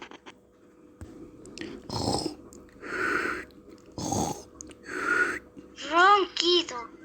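A voice imitates snoring for sleepy farm animals in a Spanish children's story, giving several rhythmic, breathy snore sounds in a row, spaced about a second apart, ending with a couple of squeaky whistling exhales.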